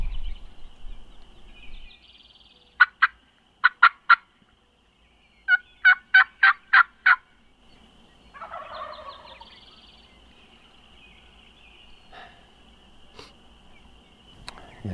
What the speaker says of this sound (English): There are a few hens too